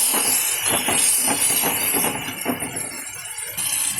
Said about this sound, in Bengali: মশলাটা দিয়ে দেখো কষাচ্ছি।